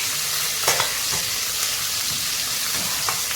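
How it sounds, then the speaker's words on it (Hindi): Chopped green onions fry in oil for a vegetable biryani, a steady close sizzle with a few light stirring scrapes of the spoon throughout. "आप डालते हैं ग्रीन कटे हुए अनियन, इसको हल्का सा चलाते हैं"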